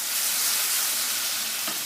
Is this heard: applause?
no